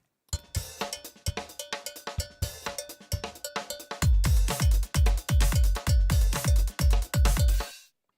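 A looping percussion groove, cowbell-like hits layered with deep kick drums that grow fuller and louder halfway through, steady rhythm, no voices.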